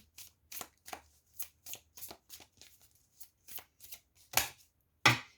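Tarot cards being shuffled and drawn during a monthly card reading, a series of crisp riffling and slapping bursts at an irregular pace, close up, ending with a sharper snap of cards, with no talk.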